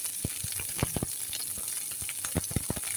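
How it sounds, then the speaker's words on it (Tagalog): Onion sautéing in a little oil while cooking beans, a soft steady sizzle with intermittent low thuds and scrapes of stirring, close by. "I-fry lang po natin guys, igisa-gisa po natin."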